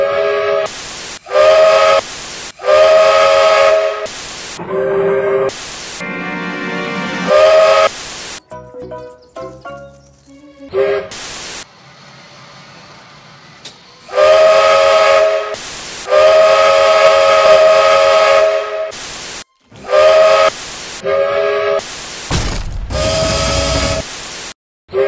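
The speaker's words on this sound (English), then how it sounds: "Steam engines have whistles that sound like this." Loud, repeated whistle blasts from Zig Zag steam engine #1049, several long tones with short gaps between them, alongside bursts of hissing and mechanical chuffing.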